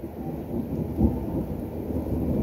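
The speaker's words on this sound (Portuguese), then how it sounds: "Está ouvindo o rugir do trovão de Deus?" Thunder rolling through a rainstorm, a deep continuous rumble with a heavier swell near the middle, layered over a steady wash of falling rain and heard alone with no voices.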